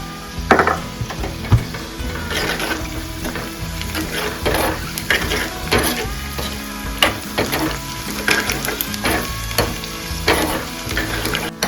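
Onion tempering sizzles and crackles in a hot pan for buttermilk rasam, loud and close, with a spatula stirring and scraping in repeated bursts and occasional clinks of the pan.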